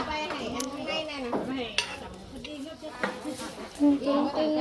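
Pots and utensils clink and scrape while rice porridge is prepared in a pot. Stirring and metallic knocks come near and moderately loud under casual conversation in Thai.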